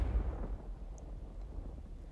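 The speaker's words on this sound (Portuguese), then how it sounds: "Outra explosão, maior que a primeira, fez o octaedro tremer." A low, rumbling explosion booms at the start and then rolls off into a long, dark decay, standing alone with no voices over it.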